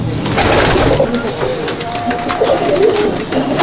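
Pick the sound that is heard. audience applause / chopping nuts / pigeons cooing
pigeons cooing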